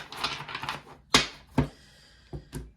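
Crisp flicking and riffling of new, slippery tarot cards at the start, followed by a few sharp taps and slaps, close and fairly loud, with no talking.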